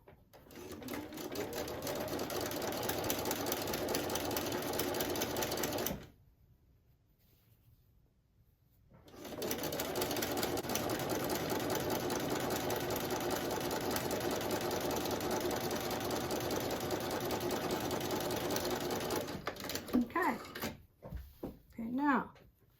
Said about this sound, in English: And I'm going to sew.